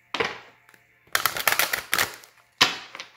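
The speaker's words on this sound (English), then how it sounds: "Let me get one more good shuffle." Quick riffling bursts of a deck of cards being shuffled, three crisp flurries separated by short pauses, close up.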